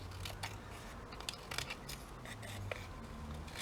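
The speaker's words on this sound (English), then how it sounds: "I just need to cut that off" Scissors snip off the unprinted edge of a printed paper sheet for a triple tuck-in envelope, making soft, close crisp cuts and rustles in a quiet room.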